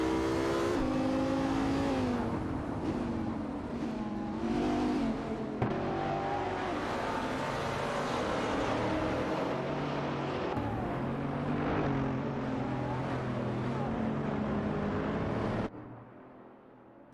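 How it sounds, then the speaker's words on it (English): Video game race cars, including a Mercedes-Benz SL65 AMG and a Mercedes SLR McLaren, roar continuously with shifting engine pitch and revving, holding steady before dropping off sharply near the end. "Okayoki 3 is driving a Mercedes-Benz SL65 AMG, while Jazak 72 is also in a Mercedes SLR McLaren."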